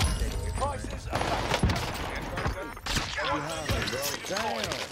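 Submachine gun fire in Call of Duty on Rebirth Island, dense rapid bursts packed into the first half and trailing off, mixed with other game sounds and overlapping talk from players.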